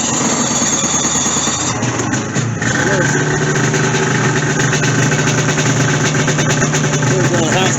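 A 2022 Polaris LXT snowmobile engine idling steadily and loudly outdoors on a frigid day, a high squealing whine riding over the motor's mid-pitched drone, with a short dip near the start.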